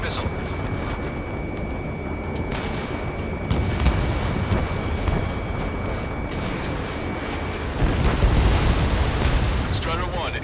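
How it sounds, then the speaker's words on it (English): Missile launch and explosion rumble from the Ace Combat 7 jet combat game, a dense, loud low roar with a steady jet-engine drone, swelling in bursts around the middle and near the end, with radio-style voices talking over it. "Strider 3 launching missile."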